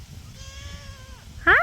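Goats on a homestead with rotated grazing paddocks give a drawn-out bleat with a wavering, harmonic tone, followed by a louder, sharper bleat close by at the end, over a low outdoor rumble.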